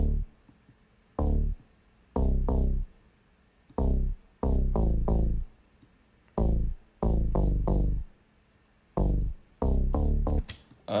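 A second take on the Harmor-built synth bass line from a song thumps out clipped, punchy notes in a choppy, syncopated rhythm with crisp gaps of silence between phrases, loud and isolated with nothing else playing.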